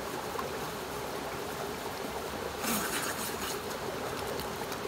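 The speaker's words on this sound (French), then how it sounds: "on se rince à la bonne eau fraîche" Fresh water runs and splashes steadily in an outdoor nature shower during rinsing off after soaping, a continuous trickling flow with a louder splashing burst midway, close and with no talking.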